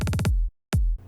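Progressive trance fill built from a chopped audio sample: a rapid burst of four or five stuttering hits that fades into a filtered tail, a short silence, then one more loud hit decaying away.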